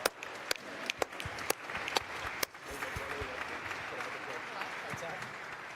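An audience applauds the United States at a UN panel with Artemis II astronauts. It begins with a few sharp separate claps, then becomes a steady, moderately distant wash of clapping across a large hall, with no clear talk over it.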